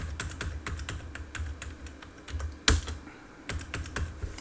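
Computer keyboard keys clicking in quick irregular typing taps close by, with one louder sharp space bar clack partway through.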